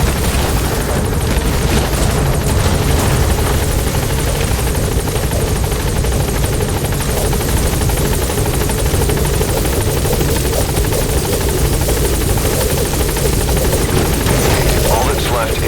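Support helicopter in the video game Metal Gear Solid V touching down at a landing zone, its rotor thrumming loud and constant with a heavy low drone throughout.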